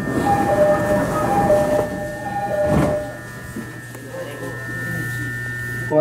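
A Chiba-area commuter train rumbles and rolls with a steady mechanical hum and a squealing tone, a brief burst of noise midway, then a low drone as it moves along the platform.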